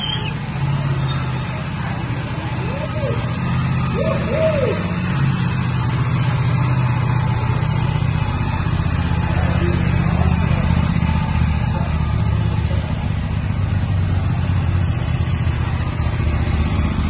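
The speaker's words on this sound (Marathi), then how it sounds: "आता स्टार्ट करतोय बाईक." A brand-new sports motorcycle idles steadily after starting, a continuous low engine hum running throughout with faint voices in the background.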